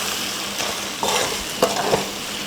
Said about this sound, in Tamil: ஆஃப் பண்ணிவிட்டு கலந்து விட்டுருவோம்